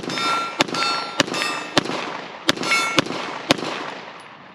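A Springfield Prodigy 1911 pistol fires six sharp, loud gunshots at irregular intervals, each a crisp crack followed by a short ringing metallic tail.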